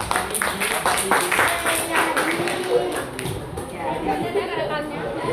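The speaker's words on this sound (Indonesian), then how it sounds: "tepuk tangan dulu dong" Steady clapping from a group of children in a classroom, mixed with lively chatter and voices throughout.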